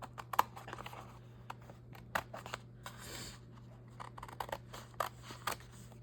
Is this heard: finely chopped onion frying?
no